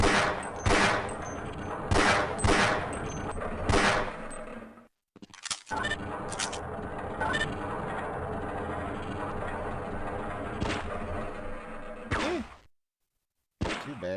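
Gunfire in the video game Half-Life Blue Shift: several sharp shots in quick bursts, then a sustained loud stretch of firing and clatter, with brief silent gaps partway through and near the end.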